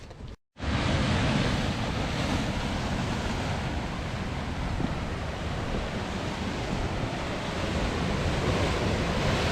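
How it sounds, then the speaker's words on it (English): Heavy ocean surf crashes and roars into a rocky coastal canyon in Scotland, a loud, continuous wash of breaking waves with wind buffeting the microphone, after a brief silent gap at the very start. "These waves are properly tearing in here"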